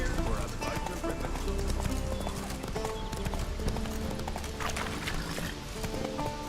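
Roach, the horse in the Witcher 3 video game, gallops with steady rapid hoofbeats over game music and ambience, with a whinny mixed in and a voice speaking over it.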